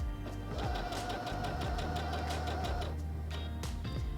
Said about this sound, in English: When I place my fabric under the presser foot and lower the presser foot, whenever I sew, you'll see that the needle stops in its up position.